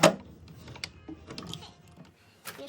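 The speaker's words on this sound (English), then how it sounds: "Keep sewing on the stitching line. And make sure you stop before the serged edge and backstitch." A sewing machine stitches a kick pleat with short mechanical bursts and clicks, including a backstitch, heard close and fairly quiet with pauses between runs of stitches.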